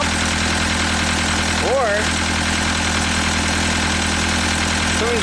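A Perkins diesel engine on a Genie lift, which stalls under load, idles with a steady, even rumble and vibration throughout, while someone talks over it.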